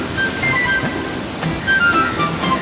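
Sea waves wash onto a beach in a steady, close surf roar with broad noisy swells, alone with no talk.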